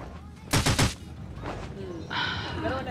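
Gunfire from a healer gun in Rules of Survival, a quick loud burst of several rapid shots, followed by a fainter shot and other game sounds, with a voice talking over part of it.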